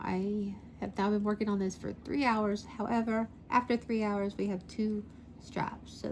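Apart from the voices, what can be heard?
No distinct noise like a dog, phone or traffic.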